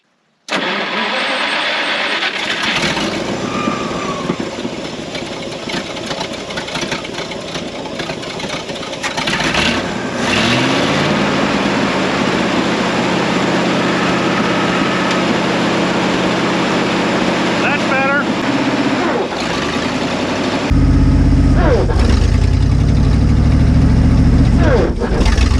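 A 1952 Kenworth Pacific bus engine cranks and catches, then idles roughly as a rigged-up throttle raises and drops the revs in loud waves, with a voice speaking briefly over the engine noise.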